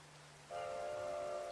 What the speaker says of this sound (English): Oh, I hear a train arriving now.